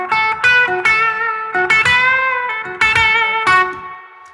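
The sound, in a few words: third lick of a blues on guitar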